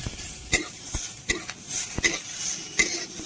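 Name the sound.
raw chopped onion being stirred and fried in a pan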